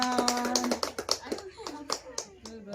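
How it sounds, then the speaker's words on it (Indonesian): A group of mothers clapping in a hygiene lesson, sharp uneven hand claps close by, with a voice speaking over them. "Tepuk tangan."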